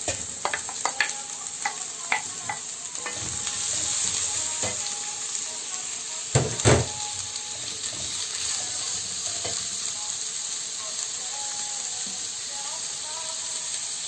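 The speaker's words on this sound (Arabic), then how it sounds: "الزيت اهو، هنزل بقى عليه بالبصل." Onions frying in hot oil for stuffed grape leaves, a steady close sizzle and hiss with occasional stirring scrapes and a few sharper clatters from the pan.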